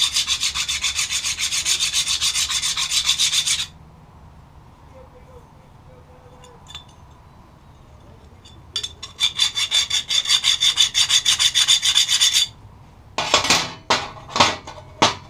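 A metal air tool holder with freshly drilled holes is deburred by hand, producing bursts of harsh, rhythmic rasping strokes, close and loud, separated by a quieter pause with faint clicks; a final run of short separate scrapes.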